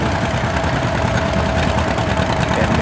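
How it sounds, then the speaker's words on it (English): Antique John Deere tractor engine runs steadily at an outdoor tractor pull, a loud continuous low chugging rumble with a constant rhythmic throb and no talking. "So that's an old John Deere."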